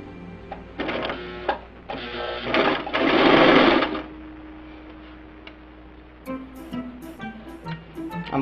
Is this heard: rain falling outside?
no